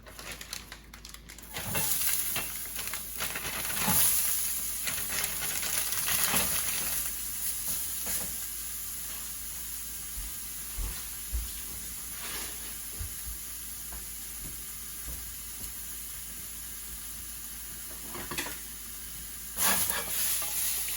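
Frozen coconut is sautéed in a pan, giving a steady low sizzle that runs throughout, with occasional scrapes and stirring clatters of a spoon against the pan and no talking.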